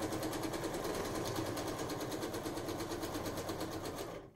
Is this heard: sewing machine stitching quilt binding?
yes